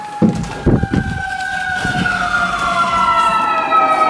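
Emergency sirens wail steadily in the distance, long high-pitched tones sliding up and down, with a few thumps and knocks close by near the start.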